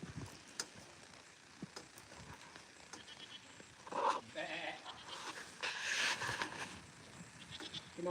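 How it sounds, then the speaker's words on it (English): A goat on a ranch bleats a few times in a row, fairly close, over a low outdoor background of rustling and handling sounds. "Come on, goat."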